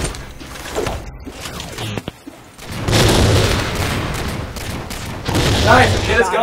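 Gunfire in the Halo 4 video game, loud bursts of shots and booms crowding a short stretch of play, with excited voices shouting over the action.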